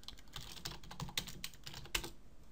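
Rapid typing on a computer keyboard, a quick, continuous patter of close key clicks with a few louder strokes, heard alone.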